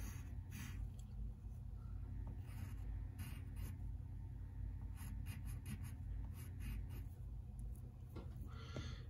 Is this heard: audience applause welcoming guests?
no